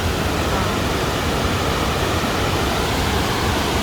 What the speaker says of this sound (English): This is this big waterfall here.